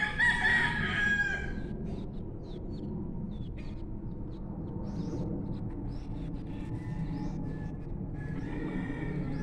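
A rooster crows loudly at the start while chickens cluck and stir faintly afterward, heard under a low steady background hum on a farm where a guard dog is kept.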